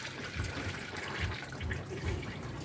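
Coolant drains from the drain plug of a Nissan Almera during a coolant flush, a steady, faint trickle of liquid that continues throughout.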